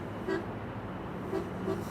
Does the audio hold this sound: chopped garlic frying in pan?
no